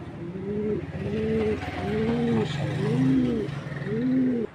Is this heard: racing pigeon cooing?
yes